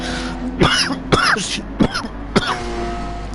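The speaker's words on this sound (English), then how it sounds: "sorry for coughing down everyone's ear" A sim racing commentator coughs and clears his throat close to the microphone, four sharp hacking bursts spaced about half a second apart over a low steady hum.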